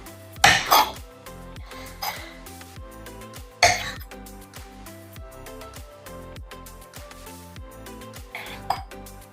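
A knife slicing vegetables into julienne strips on a cutting board makes steady, rhythmic taps, with a few sharper knocks standing out. No one speaks.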